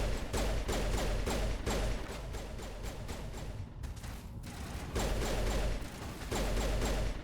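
Sustained rapid gunfire in Mass Effect 1, dense repeated shots with a brief lull in the middle before the firing resumes, loud and continuous.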